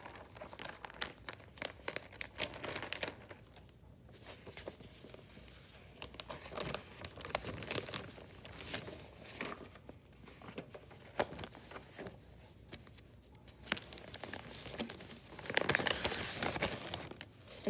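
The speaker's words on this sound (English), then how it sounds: "get your plastic bag." A plastic bag crinkles continuously for a long stretch, close and fairly quiet, in uneven rustling bursts while it is handled during a paint-and-paper craft.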